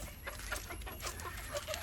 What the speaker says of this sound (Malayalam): വല്ലാതെ പേടിയും വട്ടമൊന്നും ഇല്ലാത്തൊരു കോഴിയാണിത്